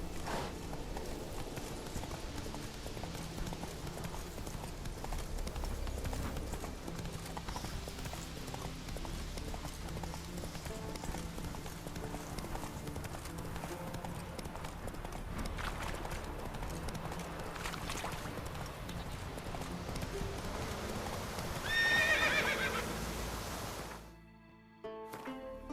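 Roach, the horse in The Witcher 3, trots with a steady, rhythmic clip-clop of hooves over a continuous game soundscape that cuts off abruptly near the end.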